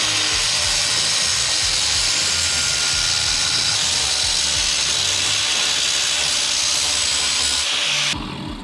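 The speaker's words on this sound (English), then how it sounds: "I'm actually gonna just score it with the grinder in 2 spots" An angle grinder scores a plastic sheet in a steady, loud, harsh whine with a grinding rasp, continuous for about eight seconds before it cuts off abruptly near the end.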